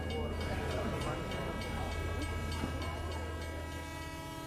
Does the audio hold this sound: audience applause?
no